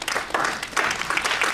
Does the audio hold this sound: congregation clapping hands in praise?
yes